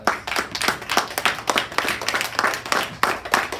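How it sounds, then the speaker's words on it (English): A crowd claps in steady, dense applause, loud and close, continuing throughout with no voices over it. "we all should give the audience and our speakers and our parents and your teachers just a big round of applause"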